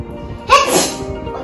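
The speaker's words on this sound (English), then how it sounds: "Cover your mouth while sneezing." A single sneeze bursts out near the middle, loud and close, with a sharp onset and a breathy tail, over a quiet room.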